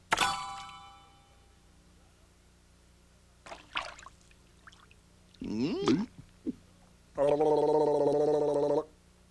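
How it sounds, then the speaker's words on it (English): A cartoon chick drinks water from a little pool, heard as a short run of bubbly, warbling gulp effects amid bright ding-like tones, with a sustained ringing chime at the end. "She started to drink and drink and drink until all the water in the little pool was gone."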